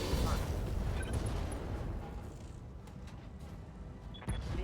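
Weapons fire on a Scorpion vehicle in the RogueTech BattleTech game, a deep rumbling barrage of booms and blasts rolling through the opening seconds, with a sharp impact near the end.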